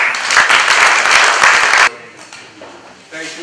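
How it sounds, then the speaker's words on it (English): Close audience applause at a pitch event, a loud, dense burst of clapping that cuts off sharply, then a few scattered claps and quieter room noise follow. "A round of applause."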